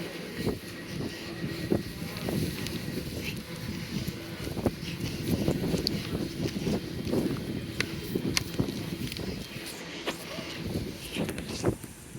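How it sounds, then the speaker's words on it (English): Gusty wind blows on a sunny day outdoors, rumbling and buffeting the microphone in uneven bursts, with someone talking over it. "It's rather windy and sunny."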